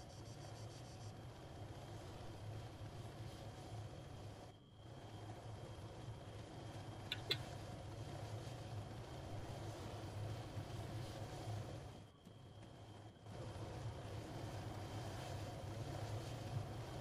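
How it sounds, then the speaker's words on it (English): A transport helicopter arrives for extraction in the military video game Arma 3, its engine and rotor making a steady, loud droning rumble that holds for many seconds with a few brief dips. "Requesting airlift at our extraction helicopter."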